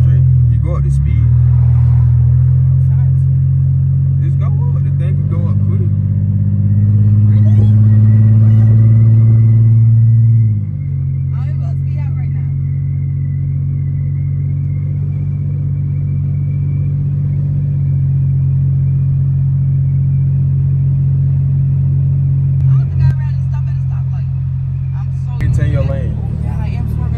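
A Mercedes W210 car cruising with a steady low engine rumble inside the cabin, revving higher and easing off once early on, while people talk throughout.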